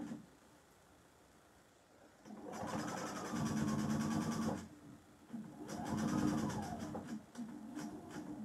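A sewing machine topstitches the pocket of a simple apron at a quarter-inch seam allowance. It runs in two whirring bursts with a rising and falling pitch as the speed changes, with soft room quiet in between.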